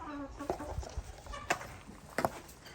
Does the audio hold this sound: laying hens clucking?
yes